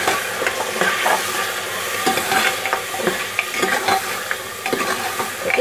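Mutton being fried with coriander powder, garam masala, red chilli powder and salt for mutton korma, giving continuous close sizzling with frequent stirring scrapes and clatter, fairly loud, no talking.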